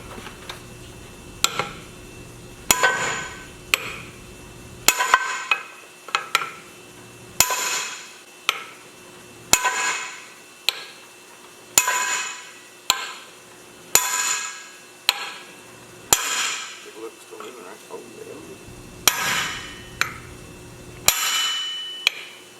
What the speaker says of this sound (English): we should be able to drive the pin out successfully